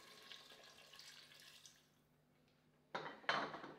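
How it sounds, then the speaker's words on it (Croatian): Water poured into a pot over rinsed buckwheat and other ingredients, heard as two short splashing pours near the end after quieter kitchen clatter. "i dodamo vode toliko da prekrije sve sastojke."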